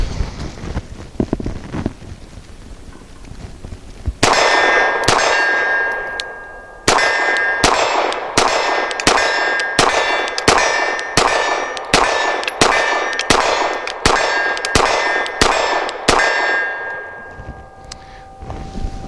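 Rapid string of sharp gunshots from an Archon Type B pistol firing 124 grain rounds, about sixteen loud cracks at a steady pace with metallic ringing, close and alone.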